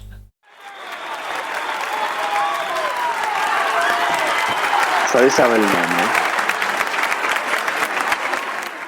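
A big audience's applause sound effect plays as a steady, dense wash of clapping from start to finish, with someone talking over it.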